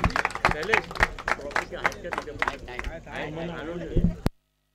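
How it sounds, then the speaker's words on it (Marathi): Brisk clapping from a small group at a prize ceremony, sharp irregular claps mixed with voices talking over them, stopping abruptly near the end. "जोरदार टाळ्या वाजवून जाऊ द्या"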